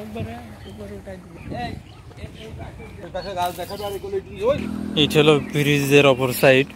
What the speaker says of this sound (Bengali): কি সুন্দর প্রাকৃতিক মাঝে পাখির ডাক